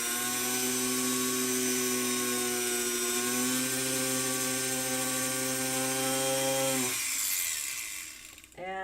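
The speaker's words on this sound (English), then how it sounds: "A little bit of cut lube will do ya. Just spin it right in there and put this straight down and drill a hole." A drill bores a hole with cutting lube applied, a steady high whine with harmonic overtones that holds for about seven seconds and then winds down abruptly, followed by a brief rattle.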